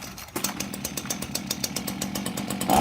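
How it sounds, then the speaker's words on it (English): Brand new Ryobi RCS5145B petrol chainsaw running after a fresh fuel mix, its two-stroke engine buzzing at a steady, moderate speed with a rapid regular firing pulse, close and continuous, rising slightly at the end. "being a brand new chainsaw, just ease it in. Don't go flat out straight away."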